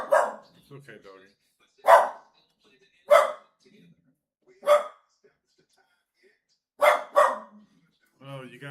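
A dog barks repeatedly indoors, six or seven loud single barks spaced a second or so apart, with a person's voice heard between them.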